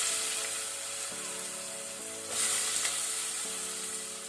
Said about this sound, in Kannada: ಈಗ ನಾವು ಪಡ್ವಲ್ಕಾಯನ್ನು ಒಗ್ಗರಣೆಯಲ್ಲಿ 1 to 2 ಮಿನಿಟ್ಸ್ ಈ ರೀತಿ ಮೀಡಿಯಂ ಫ್ಲೇಮಲ್ಲಿ ನಾವು ಫ್ರೈ ಮಾಡಿಕೊಳ್ಳುವ.